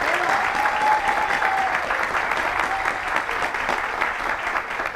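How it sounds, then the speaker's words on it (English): Crowd at a youth facility grand opening applauding, steady full clapping with some voices mixed in, sustained evenly for several seconds. "Round of applause for finally being here."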